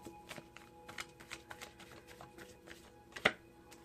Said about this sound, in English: I'm going to end the shuffle now